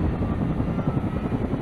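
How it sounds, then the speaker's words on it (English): Apache military helicopters hovering overhead at night during a bombing, a dense, continuous low rotor rumble with steady pulsing throb, fairly loud and unbroken. "Apache helicopters hoovering up there."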